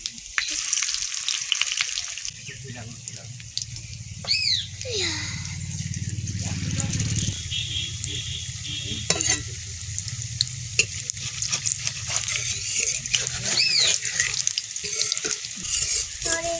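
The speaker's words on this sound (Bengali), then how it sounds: "অল্প তেলে ভাজা হচ্ছে।" Soybean pakoras fry in a small amount of oil with a continuous close sizzle and scraping stirs. People chat over the cooking, and a few short whistling tones cut through.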